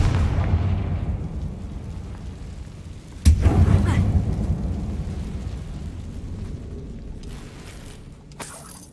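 A single sharp Confringo blasting spell detonates in the Hogwarts Legacy video game, a sudden loud crack and boom that rumbles and slowly decays over low background ambience.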